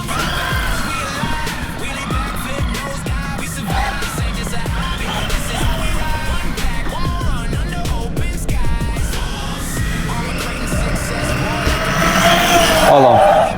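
An Arrma Senton 223S RC short-course truck with a 20-tooth pinion gear on a speed run: a loud, continuous electric motor whine rising and falling as it accelerates, with a sharper surge near the end.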